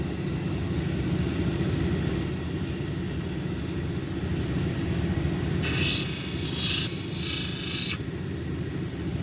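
A hard lapidary grinding wheel shapes a Mexican Red Lace Agate cabochon, giving a steady low motor hum with short bursts of brighter, gritty grinding as the stone meets the wheel.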